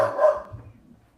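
A dog barks once close by, a short loud burst that trails off into quiet low rumble.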